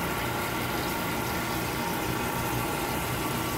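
Water pouring into the basin of a Reynolds Tech wet bench, a steady broadband rushing and hiss with a low pump-like hum beneath it, constant and unbroken throughout.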